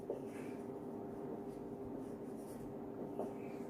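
A pen or chalk scratches steadily as an equation is written out by hand during a mechanics lesson, a soft continuous scraping with faint taps and no talking.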